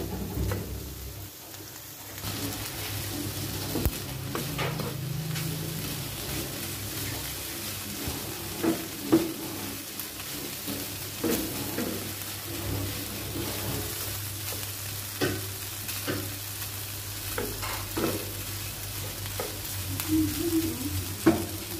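Naem, Thai fermented pork sausage, fries in hot oil with a long, continuous sizzle, scattered pops and occasional stirring clatter, close up with no talking.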